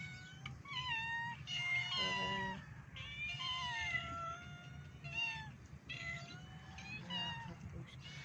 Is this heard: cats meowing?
yes